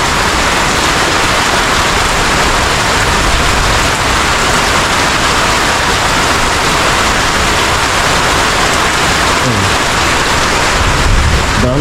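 Heavy overnight rain pours down loud and close as a dense, unbroken hiss. No distinct thunderclap stands out from the steady roar.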